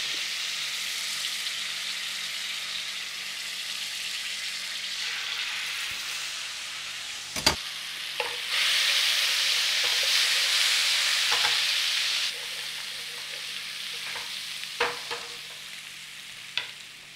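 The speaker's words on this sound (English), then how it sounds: "Give it a stir around in there." Whole spices and garlic ginger paste sizzle steadily in a pan as a utensil stirs them, with occasional sharp scrapes and taps against the metal and a louder burst of frying midway.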